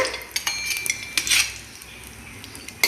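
Cashews sautéed in ghee in a pan for a sweet potato laddu, a spoon scraping and clinking against the metal in quick irregular taps over a faint, quiet sizzle.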